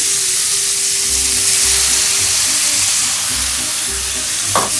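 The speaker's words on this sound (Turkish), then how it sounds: "Bir çorba kaşığı kadar da soya ekliyorum." A pan sizzles loudly and steadily as about a tablespoon of soy sauce goes in, a dense close frying hiss with a low intermittent rumble and one brief scrape near the end.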